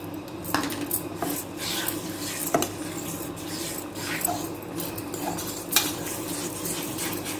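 Gram flour batter mixed with water in a bowl: continuous stirring with a utensil, scraping and clinking against the bowl in an uneven rhythm, close up, with occasional sharper knocks.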